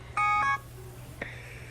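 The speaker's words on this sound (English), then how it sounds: "oh, your alarm went off." An electronic alarm goes off with a short burst of bright stacked beep tones, followed a moment later by a second, plainer beep over a steady low hum.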